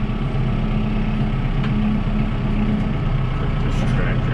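A tractor engine runs steadily while it pushes tree limbs, giving a loud, close, continuous low drone with a constant hum that stays even throughout.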